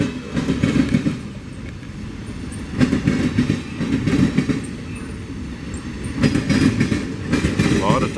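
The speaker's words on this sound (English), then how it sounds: "There's some box cars and some center beam cars coming down the way." A freight train of box cars, center beam cars and tank cars rolls past near a railroad diamond with a continuous rumble and rhythmic clickety-clack of wheels over rail joints, loud and steady throughout.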